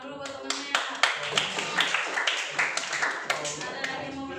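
Classmates in a classroom give a round of applause for a fellow student, with a short run of close, fairly sparse and uneven hand claps.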